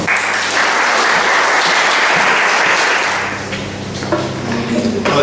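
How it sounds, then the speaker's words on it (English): At a book launch, the audience breaks into a dense, loud round of applause that holds steady for about three seconds, then thins out into scattered claps. "I think you deserve a good round of applause"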